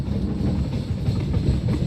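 A passenger train rolls through Train Simulator on the Raipur–Secunderabad SF Express route, with a steady low rumble and wheels clattering close and continuous throughout.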